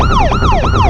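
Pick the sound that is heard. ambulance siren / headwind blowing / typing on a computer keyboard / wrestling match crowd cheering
ambulance siren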